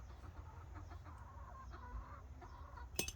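Chickens cluck softly and intermittently at a distance over a low background rumble, with one sharper squawk near the end.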